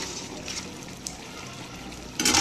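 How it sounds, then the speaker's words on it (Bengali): Water being poured into a cooking pot of pulao on a home stove, a steady soft gushing and trickling pour at moderate level that swells louder in the final moment. "এবার আমি জল দিয়ে দিচ্ছি।"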